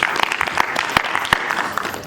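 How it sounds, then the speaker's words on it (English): Audience applause at a congress session, with a scattered run of claps and a few sharp, loud individual hand slaps standing out; the clapping sounds fairly close and sparse. "Please, a round of applause."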